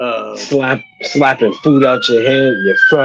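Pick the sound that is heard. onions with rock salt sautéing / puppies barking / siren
siren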